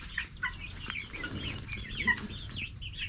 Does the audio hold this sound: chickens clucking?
yes